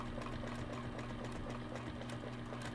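A sewing machine stitches fabric with a rapid, even mechanical whir and hum, quiet and continuous for the whole stretch, with no voices.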